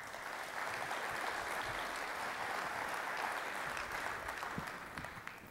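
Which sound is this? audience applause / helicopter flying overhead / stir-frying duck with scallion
audience applause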